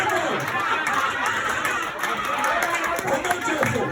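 A church congregation cheers and claps for their pastor, Melvin L. Montgomery Jr., producing a dense, steady roar of crowd voices with scattered clapping throughout.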